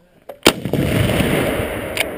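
A single sharp artillery gunshot fired during Swedish soldiers' training bursts close and loud, followed by a long rumbling echo that fades out, with a faint click and a brief noise near the end.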